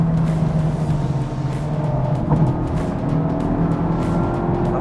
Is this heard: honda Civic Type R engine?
yes